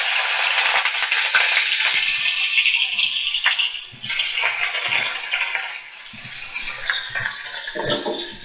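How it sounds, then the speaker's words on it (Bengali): Finely chopped onions frying in hot white oil in a pan over a medium flame, a loud close hiss and sizzle that gradually settles, with occasional stirring scrapes. "মিডিয়াম ফ্লেমে রেখে পেঁয়াজটা ভাজবো।"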